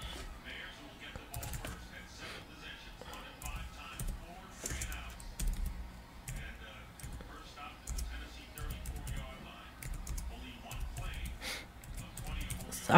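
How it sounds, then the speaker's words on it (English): Someone types on a computer keyboard in short irregular bursts of soft clicks, slow and uneven, close by, with a voice talking over the keystrokes. "Sorry, I type so slow."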